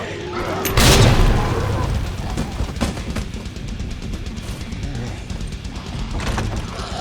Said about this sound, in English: I just throw this grenade